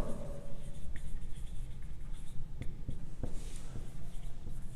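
Pen scratching across paper while a geometry exercise is written out, giving quick irregular strokes and taps close to the microphone and continuing for several seconds with no voice over it.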